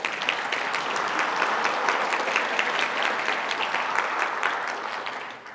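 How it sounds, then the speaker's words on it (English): A conference opening ceremony crowd claps for a sponsor, a steady wash of applause lasting several seconds before tapering off at the end. "please give Obsidian a round of applause"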